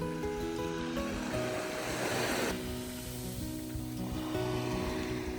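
Sea waves wash onto a beach in England in a steady, continuous roar of surf mixed with wind buffeting, with no voices present.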